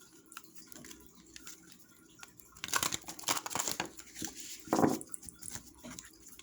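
Close, soft crinkly rustling and riffling of a deck of Blessed Be oracle cards by Lucy Cavendish being shuffled by hand, in uneven bursts with a louder flurry near the end and no talking.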